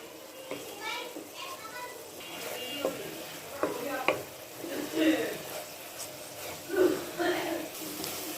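Grated coconut and jaggery filling for bhapa puli pitha cooking in a pan until its water dries out, with soft sizzling and repeated scraping stirs under intermittent talk and a voice nearby.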